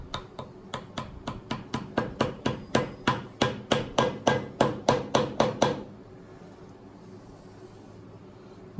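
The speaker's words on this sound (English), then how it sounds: "I'll take a rubber hammer and I'll gently bump that in." About twenty steady, evenly spaced taps from a rubber hammer seating a water pump on a 1987 Johnson 9.9 outboard, close and fairly loud, then a quiet stretch of background hum.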